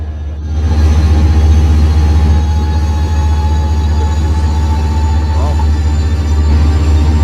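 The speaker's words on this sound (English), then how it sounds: "It's very much the classic sound of the diesel engine," Diesel locomotive engine from the Train Simulator game, a loud, steady low rumble with a constant drone holding throughout after a brief quieter start, with faint tonal whine above.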